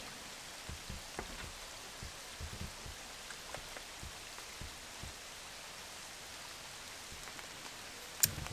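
Steady rain falls at a campsite on a wet day, a dense continuous hiss with scattered nearby drops tapping on surfaces and a sharper patter near the end, no voices.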